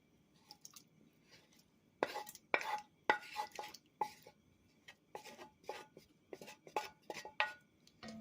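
Cooked mushrooms tipped into a pot of beef stroganoff stew, giving a run of close, soft wet clinks, stirs and scrapes from utensils against the pot, louder bursts after a quiet start, with no talking.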